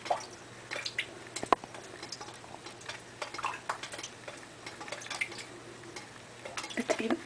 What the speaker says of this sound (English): it's even dripping in here